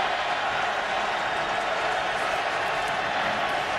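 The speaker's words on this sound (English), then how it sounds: "Crowd noise." Dense, steady roar of a college football stadium crowd during Louisville vs UCF in 2013, a continuous wash of cheering and applause holding at the same level throughout.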